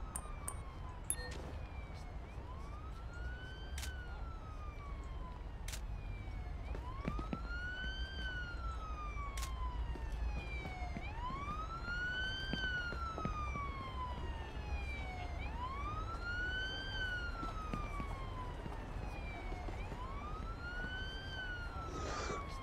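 A wailing ambulance siren in the video game Police Simulator: Patrol Officers, rising and falling in slow repeated sweeps as it arrives, heard over a steady low engine and ambient rumble with occasional clicks.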